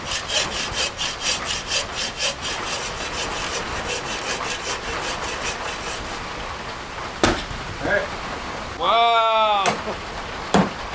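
Hiker splitting or working wood with a hatchet at a trail shelter in the Great Smoky Mountains, a run of rhythmic scraping strokes, then a few sharp chops, with a person exclaiming nearby.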